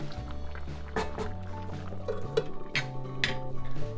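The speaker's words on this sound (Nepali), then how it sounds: "उम्लिरहेको पानीमा हामीले सिस्नु हाल्यौँ" Nettle greens simmer in a pot of boiling water, with soft bubbling, liquid sloshing and a few sharp clinks of utensils against the pan, fairly quiet and close, with no talking.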